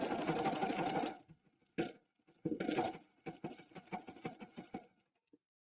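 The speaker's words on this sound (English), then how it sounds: "it's going to stitch my 5 stitches right over top of the other 5 and go into the other half circle" An Epic 2 embroidery machine stitches laser pictogram stitches in quick bursts, a loud run of rapid needle chatter, a pause, then shorter stop-start stitching runs and a final single tick.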